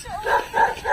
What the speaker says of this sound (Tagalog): Mama, hindi nakataling aso.